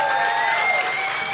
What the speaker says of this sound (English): Can we give it a round of applause